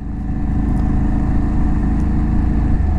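An Aprilia Tuareg 660 motorcycle is ridden, its engine giving a steady, loud low drone with constant wind rumble throughout.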